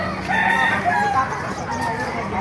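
Sweater gamefowl roosters of pumpkin, lemon and Boston lines crow at a busy animal market, several overlapping crows against steady crowd murmur.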